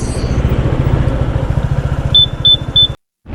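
A Honda ADV160 scooter cruises along a highway near Tagaytay, a close, pulsing engine drone with wind rush, then a few short high beeps before the sound cuts off abruptly.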